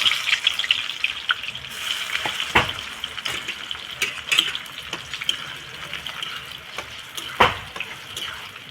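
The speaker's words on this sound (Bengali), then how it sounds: "পেঁয়াজ ভেজে নিব বেরেস্তার জন্যে।" Onions fry in mustard oil for birista with a steady sizzle, broken by sharp clinks and scrapes from stirring in the pan, close by and with no talk.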